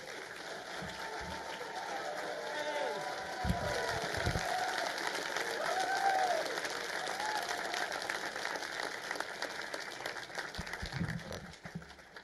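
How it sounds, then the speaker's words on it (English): A conference crowd applauds to welcome Dr. Steven Greer, a sustained, somewhat distant patter of clapping over roughly twelve seconds, with faint voices and room noise mixed underneath. "give him a big, warm Nexus Conference round of applause for Dr. Stephen Greer"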